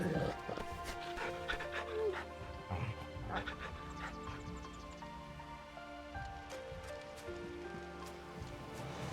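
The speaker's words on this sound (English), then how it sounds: "Damn straight, we pet the dog." A dog being petted in Final Fantasy XVI, with soft panting and faint whimpers under rain-like ambience and a game music bed, while voices speak over it.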